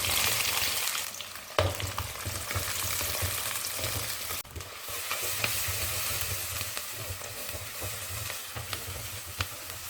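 Steady, dense sizzling of onions frying in hot oil after fennel seeds, with occasional louder crackles and stirring scrapes, close and continuous without any talk.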